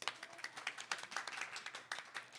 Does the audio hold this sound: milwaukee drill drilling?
no